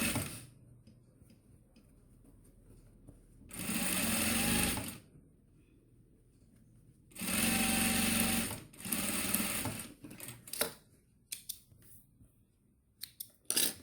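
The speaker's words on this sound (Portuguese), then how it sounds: "vai soltar ele, vai esticar vai acertar e vai passar a costura" A sewing machine stitches a double fabric wallet in short bursts, each run a loud close mechanical whirr lasting a couple of seconds, separated by quiet pauses and small clicks of handling.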